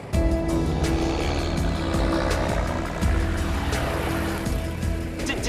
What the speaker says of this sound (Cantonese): 揸緊飛機啊